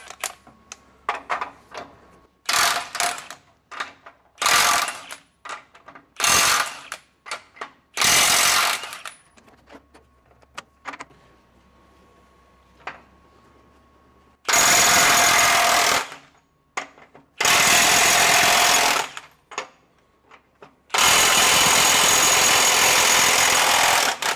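A RIDGID 18V 3/4-inch high torque impact wrench in reverse on high speed, loud close bursts of rapid hammering, short at first and then longer sustained runs, separated by near silence.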